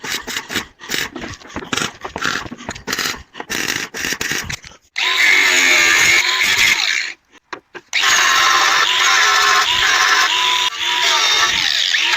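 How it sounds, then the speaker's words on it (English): A weld on the tailgate of a Vauxhall Nova SR is ground down, first in short choppy bursts, then in two long, loud, sustained grinding runs separated by a brief pause. "I'm going to hold it in place, weld round it, then grind it smooth."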